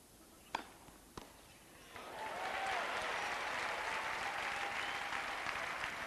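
A men's tennis match crowd at Henman versus Edberg breaks into sustained applause after two sharp ball strikes, swelling into a steady distant wash of clapping that carries on to the end.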